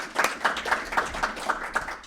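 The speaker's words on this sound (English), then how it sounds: "So let's give a round of applause." Audience applause at a ribbon cutting ceremony, with regular rhythmic clapping pulses about four per second, moderately loud and close, sustained for a couple of seconds.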